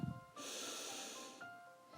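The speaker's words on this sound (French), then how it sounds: "Tu prends une grande respiration" A single long, deep inhalation is drawn close up, a steady airy hiss that holds for nearly two seconds after a short sniff and is followed by another brief intake.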